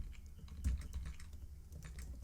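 Code is typed on a computer keyboard during a Python data-analysis session, with quick, faint, close key clicks in an uneven rhythm over a low background hum and no voices.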